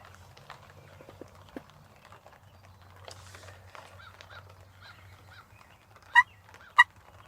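Wild turkey hens on a spring archery hunt in Michigan give two sharp, loud calls close together near the end, standing out over a quiet woodland background with a low steady hum.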